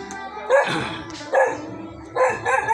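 A dog barks in three loud bursts, each a short cluster of sharp barks with pauses between, close by.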